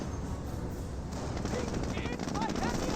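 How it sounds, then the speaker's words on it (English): Pak 38 anti-tank gun fire in a Company of Heroes battle, with dense continuous gunfire and battle noise under a steady game mix, voices and callouts mixed in. "We'll see some Pack 38 fire."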